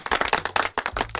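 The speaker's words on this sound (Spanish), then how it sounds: "Son aplausos grabados." Recorded applause from a studio crowd bursts in two quick waves of clapping, close and lively, with a brief gap between them.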